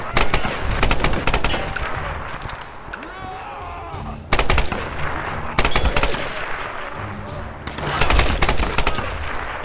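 Automatic gunfire rings out in the video game Tomb Raider, with loud rapid bursts of shots separated by brief quieter gaps that hold echoing impacts and rumble.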